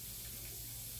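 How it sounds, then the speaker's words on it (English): Pork chops frying in a pan for an old-fashioned Sunday dinner, giving a steady dense sizzle and hiss throughout, close and even with no pauses. "I don't want them frying too fast"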